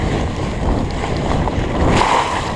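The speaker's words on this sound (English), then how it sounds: "But we have to do the water crossing again." Surly Moonlander fat bike ploughing through a trail water crossing at high speed at night, a steady broadband rush of splashing water and wind noise on the microphone, loud and continuous throughout.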